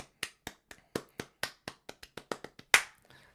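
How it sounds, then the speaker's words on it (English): A dozen or so sharp, evenly spaced hand claps, close and crisp, ending on one louder clap. It is sparse, like a small group or a single person applauding a cooking-themed game jam entry. "Can we get a huge round of applause, please, for Cooking in the Cold by Mike"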